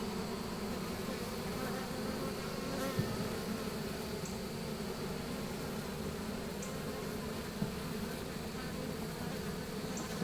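Honey bees in a horizontal hive during an inspection, a dense, continuous buzzing hum with close passing buzzes, steady throughout with a couple of faint clicks.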